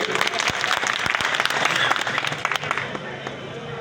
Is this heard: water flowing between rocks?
no